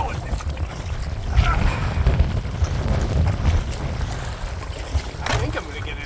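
Wind gusts across low water around a small boat in a cove, a steady, loud rushing roar and microphone buffeting that fill the whole stretch with rumbling, churning texture.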